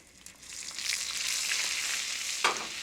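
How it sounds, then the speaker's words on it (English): Capers dropped into browning butter in a pan give a steady close sizzle with bright crackling, rising after a soft start and holding, with one sharper pop near the end. "So the butter is browning. I'm going to add the capers right into it."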